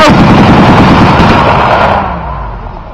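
Dense bursts of machine gun and rifle fire at a WW2 reenactment battle crack out loud and close, a continuous rattling barrage that thins and fades toward the end.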